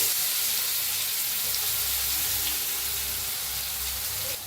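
Mustard seeds and cumin hitting hot oil for bread pakora, giving a loud, steady, close sizzle and crackle that runs unbroken to the end with no talking.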